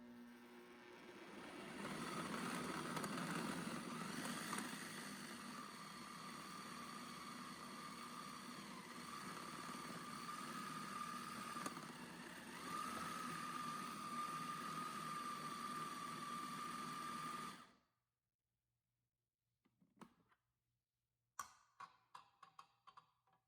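A mixer grinder runs steadily for about eighteen seconds, grinding dates with a little oil, its loud motor whine holding level before it cuts off, followed by a few faint clicks and knocks.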